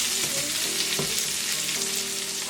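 Salmon burgers fry in a pan with a steady, close sizzle throughout, joined by brief scraping and utensil sounds.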